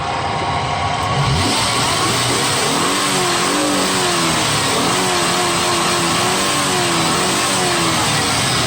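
A repaired Nissan Xterra engine runs loudly and steadily after a crank-no-start fault, its rough idle rising and falling in slow revving waves, alone with no voices.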